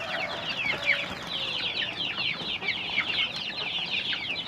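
Many chickens cluck and chatter together in a busy, continuous chorus from a coop built over a fish pond, fairly close, with overlapping calls and no talking.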